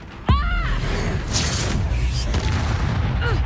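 A Bombarda explosion spell goes off in Hogwarts Legacy, one sharp loud boom near the start followed by a sustained rumbling blast and crackle, with a voice shouting over the opening moment.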